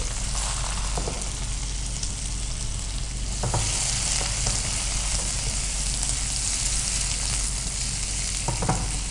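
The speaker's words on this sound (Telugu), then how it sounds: "కిస్మిస్ చిరంజీ ఫ్రై అయినాక కీరాని కూడా లైట్గా ఫ్రై చేస్తున్నాం." Peeled cucumber lightly frying with raisins and charoli in a pan for keera sheer khurma, a dense continuous sizzle with occasional stirring clinks, close and loud throughout.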